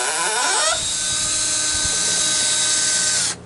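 A power drill backs screws out of 4x4 lumber with a close, steady, high-pitched whine that runs continuously before cutting off sharply just before the end.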